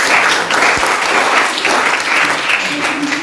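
A classroom of students claps together in an Indonesian maths lesson, dense, loud, continuous applause lasting a few seconds, close and with no talking over it.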